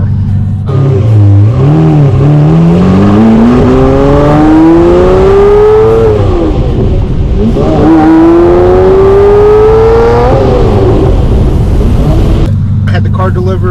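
A gated-manual Lamborghini Murcielago out on a drive: the engine climbs loudly through two long accelerating pulls with a shift between them, then falls back toward a lower drone near the end.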